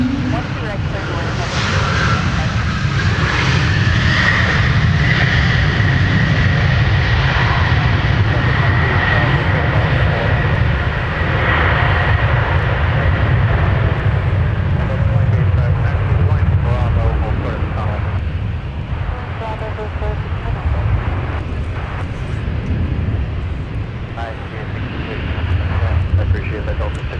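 An Airbus airliner lands on runway 12 right at Minneapolis–Saint Paul airport, a loud, sustained engine roar with a whining tone that slowly fades into rumbling, while air traffic control radio chatter runs over it.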